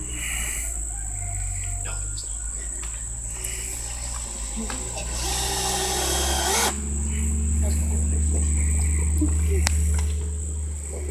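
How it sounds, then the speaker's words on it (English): Power drill driving two screws during a cob building demo outdoors, whirring in bursts at close range, with steady insect chirping in the background. "So I'm putting in 2 screws because I have this one that could potentially pivot on that one corner."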